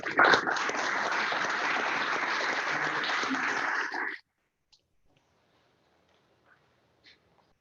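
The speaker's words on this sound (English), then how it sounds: "let's give them both a big round of applause" Rotary club meeting audience giving a round of applause, dense steady clapping for about four seconds that stops abruptly, followed by near silence with a few faint knocks.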